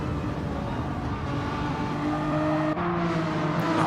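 Renault Megane Trophy race cars in a racing video game drone steadily at high engine revs through turn 1, a continuous loud engine whine with a brief gear-change dip near the end.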